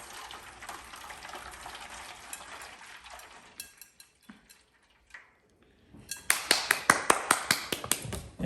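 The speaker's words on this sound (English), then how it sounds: "you're gonna have some boiling water, and you're gonna pour it on the inside of this" Boiling water pours into a pan for flan de queso, a steady rushing stream that fades out before a run of sharp, rhythmic clinks and taps close by.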